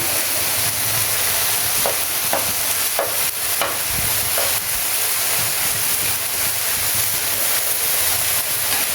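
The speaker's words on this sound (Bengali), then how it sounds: "এখন ভালো করে নেড়ে দিতে হবে।" Water spinach and shrimp with green chilies stirred in a hot frying pan, a steady close sizzle with repeated scraping strokes of the spatula throughout.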